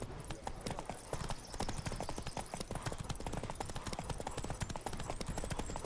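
A horse gallops in The Witcher 3: Wild Hunt, with rapid, even hoofbeats pounding loudly and continuously throughout.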